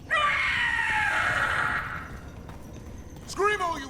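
The Gloomhowler monster in the video game Dragon Age: The Veilguard lets out a long, loud, shrill scream that fades after about two seconds, followed by a short voiced outburst near the end.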